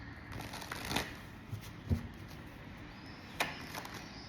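A tarot card deck being shuffled: soft, papery riffles and shuffles in a few short bursts, close but quiet, with no talking.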